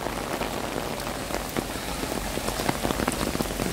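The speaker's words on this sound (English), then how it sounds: "it's raining hard" Heavy rain pours down steadily and close by at Walt Disney World's Epcot resort area, a dense constant patter on surfaces with no voices.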